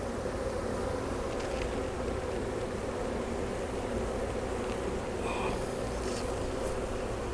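Dense, continuous buzzing of many honey bees fills the air, close and steady throughout with no talking.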